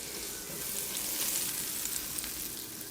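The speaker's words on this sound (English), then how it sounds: "A nice sizzle is what we're looking for." About six tablespoons of butter sizzling in a hot pan, ready for scallops: a steady, close, crackling fry hiss with small pops and no talking.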